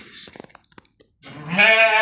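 A single loud, wavering bleat from a pregnant goat rings out close by after a few soft clicks and taps.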